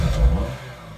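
A Porsche car engine starting and revving, sampled into a song: a loud low rumble swells early, then settles into a steadier, fainter idle-like drone.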